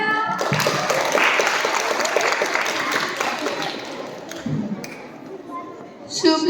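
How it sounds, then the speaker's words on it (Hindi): Audience applause in a school hall at an inter-house children's poetry recitation contest, greeting a Class 6 student poet; steady dense clapping for about five seconds, easing off, then a fresh burst at the end. "मेहुल के लिए तालियां"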